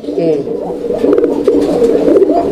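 Domestic pigeons coo steadily at a busy pigeon market where fancy breeds and pairs are sold, their low throaty calls running throughout under nearby conversation.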